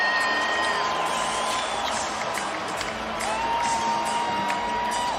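Basketball arena crowd rising to its feet late in a close NBA game, a dense, sustained roar of cheering, whoops and shouts with sharp whistles cutting through, steady and loud throughout.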